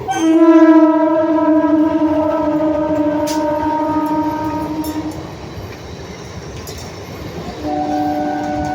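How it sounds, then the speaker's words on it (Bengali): A local train's horn blares in a long steady harmonic tone, fades out midway, then sounds again briefly near the end over rumbling rail noise. "ট্রেন যাচ্ছে দেখো"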